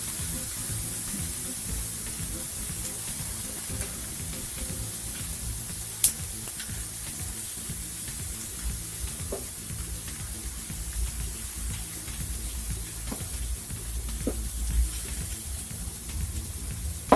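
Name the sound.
leftover rice frying in a hot pan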